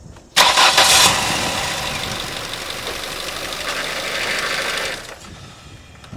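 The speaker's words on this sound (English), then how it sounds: "you want to run the engine, but you run it very briefly" A Ford Focus engine turns over and runs with a steady, rough mechanical drone for about five seconds during a power steering fluid change, then cuts off abruptly; no one speaks.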